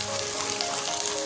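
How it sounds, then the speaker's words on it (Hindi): Ginger garlic paste and green chilies sautéing in a hot pan for a kofta curry, a brief steady sizzle with fine crackling, close and alone. "अब इसमें हम डालेंगे अदरक और लहसुन का पेस्ट और सब्ज़ मिर्चें। इनकी थोड़ी सी बुनाई करेंगे।"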